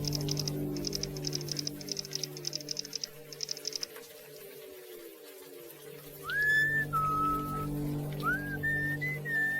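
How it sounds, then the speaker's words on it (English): A game character whistles the old sea shanty Lowlands Away in a few slow, sliding held notes, heard clearly over a steady low background hum after a patter of soft clicks. "What are you whistling?"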